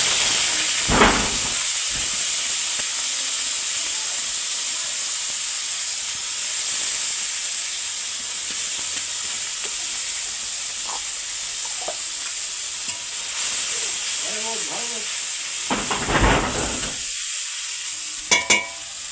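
Tomato-onion paste goes into a pan of frying fish for a sour-spicy curry, setting off a loud, continuous sizzle and hiss with scraping stirs throughout and a few sharper clatters near the end.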